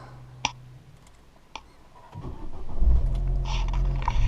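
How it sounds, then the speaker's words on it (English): A Vauxhall Corsa VXR Nurburgring Edition salvage car starts up: a couple of sharp clicks over a low hum, then the engine cranks and catches, settling into a loud, steady idle close by. "start the car."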